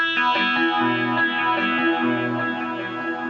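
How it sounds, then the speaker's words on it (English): An electric guitar played through an echo pedal set to a basic delay with deeper reverb, its notes smearing into out-of-sync repeats in a short, washy, distorted phrase. "that's just a basic echo sound, a little bit of delay, and a little bit of sort of deeper reverb to go with it"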